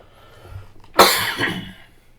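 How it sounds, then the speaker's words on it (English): One sudden, harsh cough close to the mic, followed by a softer trailing rasp, over a quiet background. "as soon as I start talking, this cough really likes to bother me"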